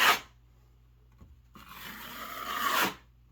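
A drywall knife drags across wet patch compound, feathering the edges of a hole repair in two rasping strokes, a short scrape followed by a longer, louder smoothing pass, close and alone.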